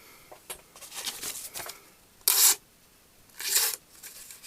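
A knife blade scrapes back and forth across a grit sharpening stone in close, rasping strokes, with two louder, longer grinding passes near the middle and end and no voices.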